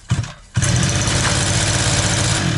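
Petrol brush cutter, just repaired, catches after a short pull-start and then runs at a steady, loud, close-up idle.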